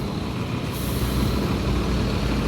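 A front-engined bus with a Mercedes-Benz 1623 engine pulls out of a terminal, its heavy diesel rumble steady and loud throughout, with a brief hiss like an air brake release near the start.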